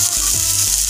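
Vegetables sauté in hot oil with curry leaves, black mustard seeds and dried chillies for poha upma, a steady close sizzle with a few soft stirring scrapes.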